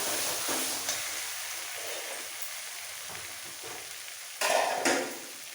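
Marinated mutton goes into a hot pan for a Bengali mutton curry with potatoes, giving a steady close sizzle and a couple of sharper bursts of hissing and clatter as the meat drops in and is stirred.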